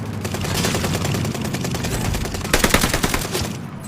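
StG-44 rifle gunfire in the game Warzone Pacific: sustained rapid automatic fire, loud and close, with a heavier burst near the end and no talking over it.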